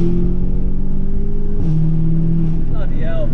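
Audi S3 engine with an aftermarket modification pulling hard, a loud close droning note that steps up as a gear changes, heard from inside the car.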